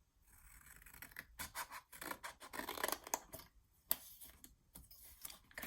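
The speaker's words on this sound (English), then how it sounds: "we're going to go ahead and make another little incision right there" Scissors cut a small incision in a paper seed packet, making close, quiet crisp snips and rasping paper scrapes in uneven bursts separated by brief pauses.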